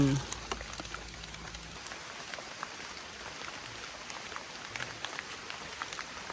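Rain falls steadily in a forest in Phayao province, Thailand, a soft, even patter of scattered drops that carries on throughout at moderate distance.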